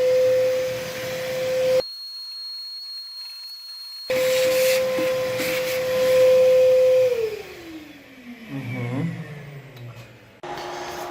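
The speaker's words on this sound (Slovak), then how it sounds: "Zapneme si vysávač." A vacuum cleaner runs with a steady high whine, cuts out abruptly, and starts again. Its motor pitch then slides downward as it winds down before a brief final burst.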